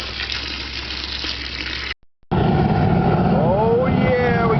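Water gushes steadily into a large crawfish boiling pot, a loud, continuous wash that breaks off briefly and then resumes, with voices over it.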